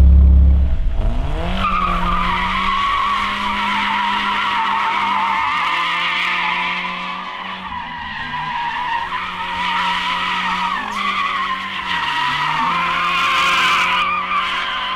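A drift car slides through a practice run with its tires squealing continuously. The engine drones and pitch shifts beneath the loud, sustained screech as the car changes direction, with no talking.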